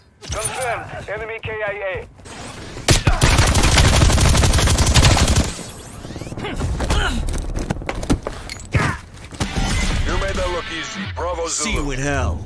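Automatic gunfire in the Call of Duty first-person shooter, with loud sustained bursts and sharp shots mixed with in-game voices and shouts, layered and busy throughout.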